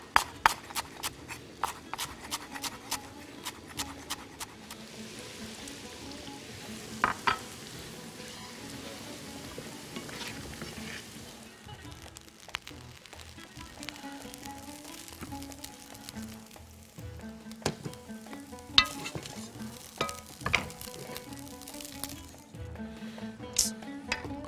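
Sausage sizzles in a pan, a soft, steady crackle at low volume broken by sharp clinks and taps from utensils, with faint scraping now and then.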